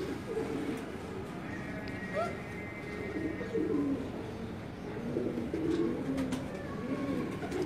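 A pigeon kept by a Karachi fancier gives low, rolling coos, fairly faint and repeated in short phrases over a steady background hum.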